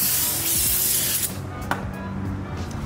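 Brake cleaner sprays in a loud, steady aerosol hiss onto a front brake part of a Mitsubishi Evo X for about a second and a half, then cuts off, leaving quiet shop ambience with a faint tap.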